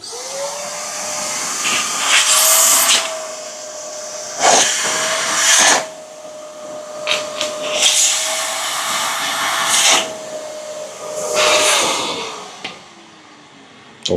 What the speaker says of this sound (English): Okay, I'm going to vacuum my grinder